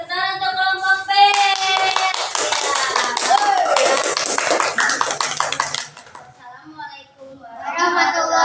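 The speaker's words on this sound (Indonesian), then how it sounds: "Ya, beri tepuk tangan untuk kelompok B." A classroom of students claps for a group presentation, a dense burst of close applause lasting about five seconds. Adult speech comes before and after the clapping.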